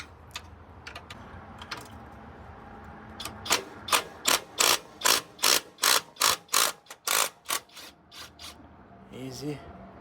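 A metal clamp being slowly loosened, giving a run of about a dozen evenly spaced rasping ratchet clicks up close, with a brief voice near the end.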